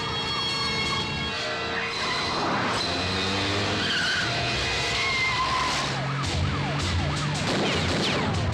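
A car speeds in a chase with police behind, engine roaring and tyres skidding continuously and loudly, with a siren-like wail mixed in the dense, busy noise.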